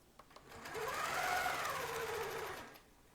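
A longarm quilting machine stitches a quilt block, its motor humming up and down in pitch as the sewing speeds up and slows, preceded by a few soft single clicks and fading out quietly.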